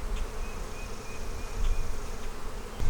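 Honeybees drawing out wax on a hive frame give off a steady, close, dense buzz that carries on alone from start to finish with no break.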